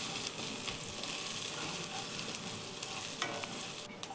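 Mustard seeds, ginger, garlic and green chilli fry in hot oil for a Kerala-style chicken curry, giving a steady close sizzle with occasional crackles and the scrape of stirring throughout, no voices.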